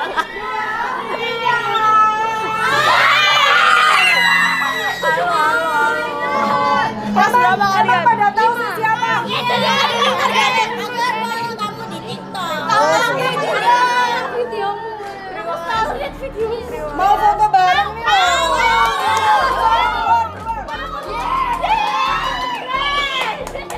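A crowd of elementary schoolchildren on a school field shout and chatter together, a dense, loud babble of many young voices that swells and dips throughout, with occasional cheering.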